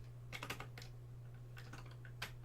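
Typing on a computer keyboard while playing Commodore 64 games, heard as faint, scattered clusters of quick key clicks with pauses between bursts over a steady low electrical hum.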